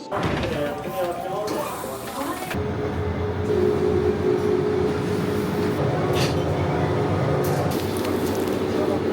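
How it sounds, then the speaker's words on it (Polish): A Tokyo subway train rumbles steadily, with a broad roar and a faint whine, and a door-like clunk early on; no clear speech. "To jest mój trzeci i ostatni pociąg."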